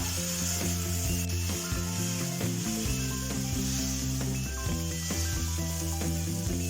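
Oil sizzles steadily on a hot cast-iron dosa pan while ghee is spread across it, with scraping and rubbing strokes over a continuous close, moderately loud fry hiss.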